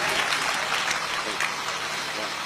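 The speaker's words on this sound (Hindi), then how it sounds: "जोरदार तालियां बजती रहनी चाहिए" A crowd at a Hindi poetry recital claps continuously and steadily, a broad wash of applause with no break over a couple of seconds.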